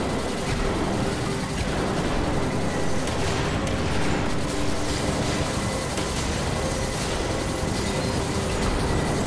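Rapid, dense gunfire from the spaceship turrets in the video game Lovers in a Dangerous Spacetime rattles on steadily and loudly for the whole stretch.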